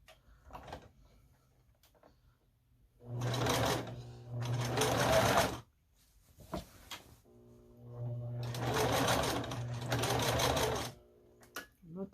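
A domestic sewing machine stitches strips of a scrappy string quilt in two long steady runs of whirring needle, with short pauses and small handling clicks between them.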